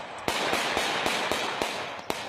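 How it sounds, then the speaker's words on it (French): Blank rounds fired during military working dog training with the French Foreign Legion, about eight sharp, loud cracks at irregular intervals over steady background noise. "malgré le vacarme des balles à blanc"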